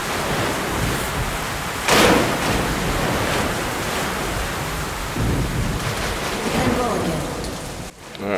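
Heavy thunderstorm in Metro Last Light Redux: constant rain hiss on surfaces with a loud crack of thunder early and rumbling rolls later, sustained and close.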